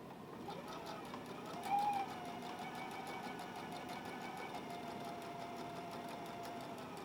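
A sewing machine stitching fabric runs steadily with a fast, even rapid-fire whir at low volume, continuous throughout with a faint tonal hum and no talking.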